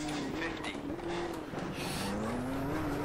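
A WRC 2 rally car revs hard on tarmac in Richard Burns Rally, its engine note climbing steadily through the gears with tire noise under it, while someone talks over it.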